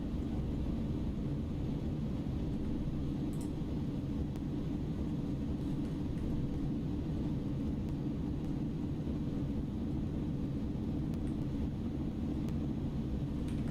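An iniBuilds A300 airliner rolls out after landing in a flight simulator, its engines in reverse thrust producing a continuous low roar and rumble at moderate level, with no talking.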